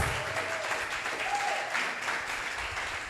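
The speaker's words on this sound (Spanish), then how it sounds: "¿Y cuántos le dan un fuerte aplauso al Señor por estos 51 años?" A church congregation at an anniversary service claps in a steady, dense burst of applause that fills the room, fairly loud and sustained for a few seconds, with no speech over it.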